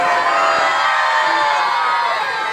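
Festival crowd at a town fair in Gelnica shouting together on request, a dense, loud wall of cheering and whooping voices sustained throughout.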